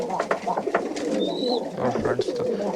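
Pigeons coo in a loft, low throaty calls repeating close by. Someone talks over the birds in the middle of the clip.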